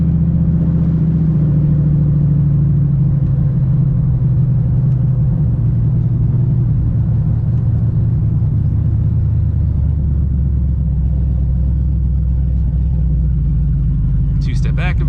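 A turbocharged Mustang on the On3 kit rumbles low and steady near its two-step launch limiter, loud and close for a long stretch, with its pitch drifting slightly and no clear sharp pops.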